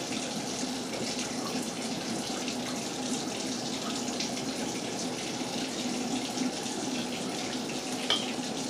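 Cool tap water runs steadily during hair washing, a constant close hiss-like stream lasting throughout with no talking.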